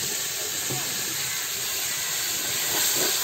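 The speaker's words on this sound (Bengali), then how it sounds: "শাক ভাজা করছে।" Leafy greens fry in a pan in a village kitchen, giving a steady, close, even sizzle and hiss that holds throughout.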